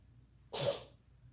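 Jackson lets out a single sharp sneeze, close and fairly loud, a sudden burst of breathy noise that fades within half a second against a quiet room.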